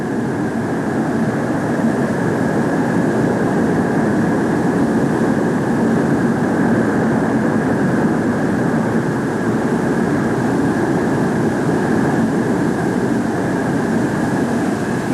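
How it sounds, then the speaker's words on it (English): Convair F-102 jet aircraft taxiing at Edwards Air Force Base after its first day of flight testing, a loud, steady roaring engine drone with a persistent high whine, continuous and unchanging throughout with no talk. "As the F-102 taxis back to the waiting crew"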